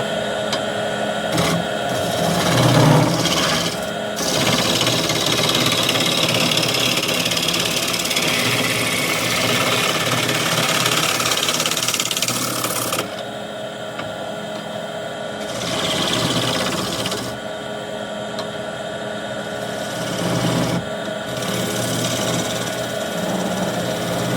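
A wood lathe spins a piece of scrap, partly rotten wood while a spindle gouge cuts it, making a continuous loud whirring, scraping hiss that rises and falls as the tool engages.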